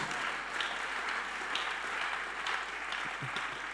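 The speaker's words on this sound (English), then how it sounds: "Let's clap for the Lord" A church congregation at an evangelistic seminar claps steadily, a dense wash of many hands with faint rhythmic accents, heard from some distance and fairly quiet.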